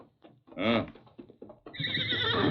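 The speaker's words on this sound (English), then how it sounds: "Did you hear that horse, Kemo?" A horse whinnies loudly in a 1938 Lone Ranger radio drama sound effect, a short rising neigh followed by a steady, bright rushing noise.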